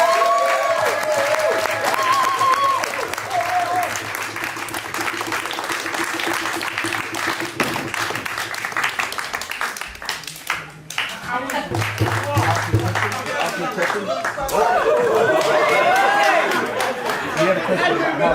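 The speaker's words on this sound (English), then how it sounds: "Can we give them another round of applause?" A theatre audience at Brixton House claps loudly for the performers, sustained applause mixed with chatter and a few chuckles, fading briefly before another swell of clapping and cheering.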